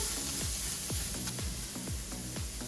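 Soft vegetables stir-fried in a pan with salt, a continuous close sizzle with repeated scraping stir strokes about twice a second.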